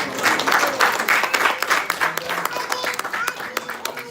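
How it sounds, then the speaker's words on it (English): A round of applause from the gathered audience at a devotional home program: brisk, crowded clapping with sharp individual claps standing out, sustained and fairly close throughout. "let's give it a round of applause one more time."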